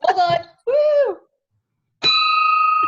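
A single clear bell ding rings out near and loud, sustaining with a bright tone after a couple of short spoken words.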